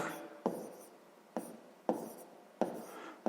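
Pen strokes on paper while working out a sixth-grade fraction sum, soft scratchy writing with four or five sharper taps as new marks begin, close and quiet, no voices.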